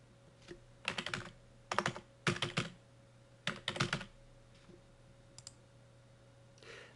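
Bursts of quick clicky keystrokes on a computer keyboard, typed in short clusters with pauses between them, close and alone against a faint steady hum.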